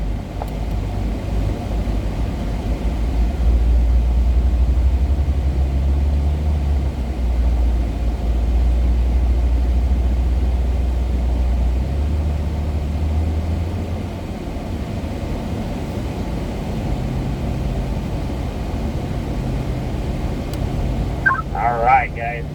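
A Chevrolet C8 Corvette pulls away onto a racetrack at a performance driving school, its engine a steady, loud low rumble that holds throughout, with a brief higher burst of sound near the end.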